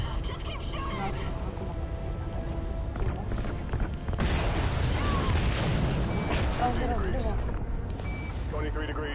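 Dense Call of Duty Ghosts combat with heavy booms, explosions and gunfire rumbling continuously and loudly, growing more intense partway through, with voices shouting over the battle.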